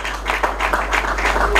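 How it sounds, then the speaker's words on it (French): An audience at a gala evening claps in a brief burst of applause, dense irregular hand claps sounding close and lively over a low steady hum. "On remet sous les applaudissements."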